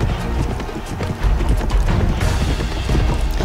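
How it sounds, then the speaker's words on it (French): Hooves of a galloping horse in the Alexandra Ledermann horse-riding video game, a fast, loud, continuous clip-clop with no voices. "Le cheval il saute super haut."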